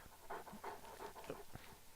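A dog in the video game Oblivion pants in quick rhythmic breaths, about five bursts over two seconds, close and moderately loud with no talking.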